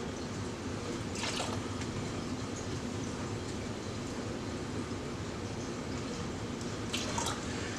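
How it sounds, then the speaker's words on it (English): Water is poured into a dip container for coral frags beside a reef aquarium. A steady, rushing, low pour runs continuously, with a few brief splashy bursts. "let's get a little bit more water."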